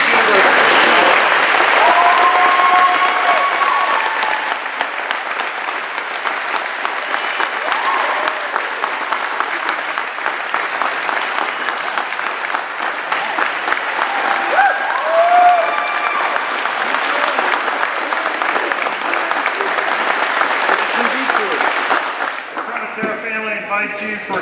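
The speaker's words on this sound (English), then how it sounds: "Please join me in a round of applause for roll call zone Lindsey as she signs her national letter of intent to attend Duke University." Long, loud applause from a school crowd as a student athlete signs her national letter of intent to attend Duke University, steady clapping throughout with cheering voices rising in places.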